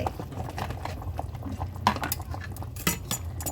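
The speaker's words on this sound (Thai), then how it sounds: "ใส่ลงไปเลยค่ะ ใส่ผักต่างๆลงไป" Vegetables, including radish, are added into a pot of simmering spicy Korean pork curry, giving soft plops and clinks of a utensil against the pot over a low bubbling background.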